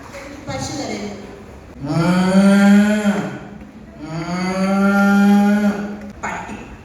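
At a special school anniversary event, a human voice imitates a cow mooing, with two long, loud, drawn-out moos in close succession.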